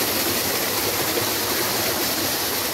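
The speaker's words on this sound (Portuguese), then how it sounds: "Olha aí onde a água tá descendo" Water pours down a small waterfall into a swimming pool, making a constant close-up rush and splash that stays even and loud throughout.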